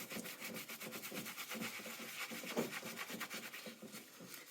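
A baby hairbrush scrubs flux residue off a soldered stained glass piece in quick back-and-forth strokes, a soft, steady, close bristle rubbing with no voices.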